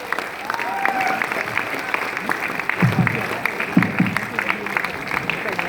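Applause for Ibrahim Ali at a stage event: sustained clapping from a crowd fills the whole stretch, fairly loud and even, with a few louder bursts of sound rising above it.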